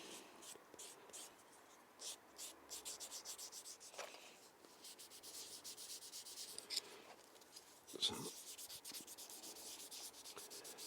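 Fine 3000-grit sandpaper rubs a part of a Tamiya Honda CB750F scale model motorcycle in quick, even back-and-forth strokes, soft and close, with a brief scraping rub partway through.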